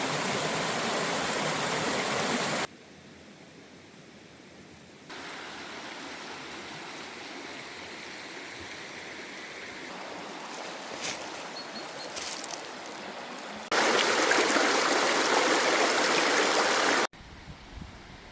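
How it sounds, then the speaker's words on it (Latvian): Fast-flowing river water rushing like a mountain stream along a riverbank trail, a continuous dense roar that shifts in loudness across several cuts, heard alone without voices. "Kā kalnu upe."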